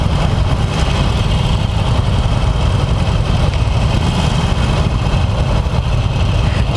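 A 2018 Harley-Davidson Forty-Eight Special with a 1200cc engine idles nearby, a loud, steady low rumble with a continuous throbbing texture that holds without change throughout.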